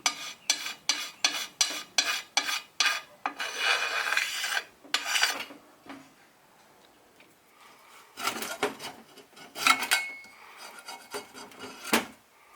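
Old gasket residue being rubbed off the engine surface of a small Honda minibike, a steady series of dry rasping strokes, close and moderately loud, then pauses broken by a few more scraping passes.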